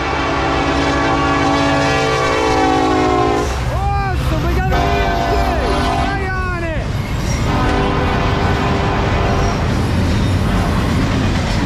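A loud, sustained horn from a Norfolk Southern freight train led by an EMD SD70ACe blares over the rumble of the train passing at 49 mph, its chord bending and wavering before the roar continues alone.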